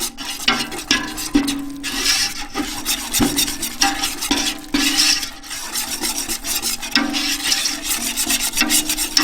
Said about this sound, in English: and continue to whisk